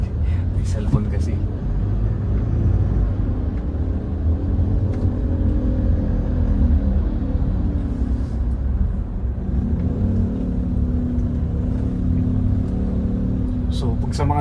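A diesel Mitsubishi Montero Sport with a manual gearbox climbs an uphill road in Baguio City traffic, its engine droning in a low, steady rumble that swells as it pulls, with someone talking over it.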